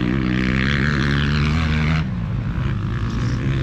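A two-stroke SX dirt bike fitted with an FMF exhaust drones loud and close, a steady buzzing engine note that abruptly drops in pitch and rasps unevenly partway through as the rider rolls off.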